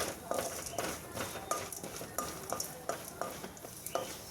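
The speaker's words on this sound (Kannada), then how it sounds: "ಬೆಳ್ಳುಳ್ಳಿನೂ ಇದ್ರ ಜೊತೆಗೆ ಫ್ರೈ ಮಾಡ್ಕೊಬೇಕು" Garlic cloves frying with chana dal in a pan, heard as a soft crackle broken by repeated scraping stirs and light spoon taps against the pan, close and fairly quiet.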